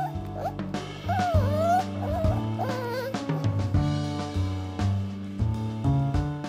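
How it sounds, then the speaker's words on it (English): Puppies whimper, yip and whine in high, wavering cries over a low steady hum, the little vocalizations coming in short overlapping bursts close by. "The puppy noises stole my heart."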